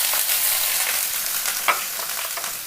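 Mustard seeds and finely chopped small onion frying in hot oil for a curry, a dense continuous sizzle with faint crackles and a brief pop, close and steady.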